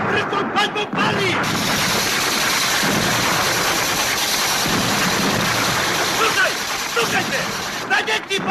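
Heavy cannon and artillery fire in a battle rolls on as a loud, continuous roaring rumble, with voices shouting through it near the start and end.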